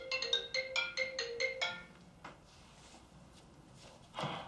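A telephone rings with a run of rapid electronic trills, then falls silent, leaving quiet room noise and a soft thump near the end; fairly faint and without talking.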